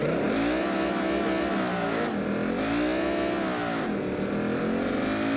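A simulated car engine in the BeamNG.drive driving game revs hard and continuously, its pitch rising and falling in sweeping waves as it accelerates, loud and close with no talking.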